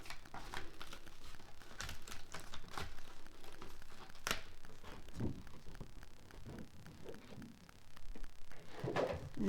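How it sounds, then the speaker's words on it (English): Soft crinkling and crackling from backing material being slowly peeled off graduation card stock, with scattered sharper ticks and tearing sounds over a continuous faint rustle, close and quiet. "then just slowly peel it off"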